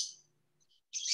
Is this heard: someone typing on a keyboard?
no